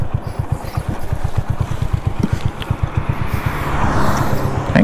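A fully restored old Hero Splendor motorcycle engine runs close by with a steady, even thumping putter, and the revs lift slightly toward the end.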